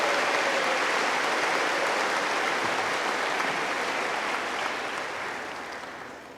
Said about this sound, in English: One more round of applause, please, for all those people who made it possible for our graduates to be here today.